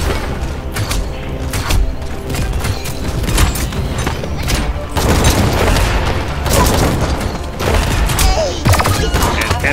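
Gunfire and booming blasts from the Paladins online shooter game pound in dense, loud bursts throughout, mixed with thuds and mechanical clatter of battle, with no voices.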